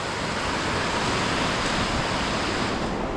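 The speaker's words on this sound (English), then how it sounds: "River still running very fast." A fast-running river on Dartmoor, swollen into wild water after heavy rain, roars as a steady, loud, broadband rush without a break, close by and with no voices over it.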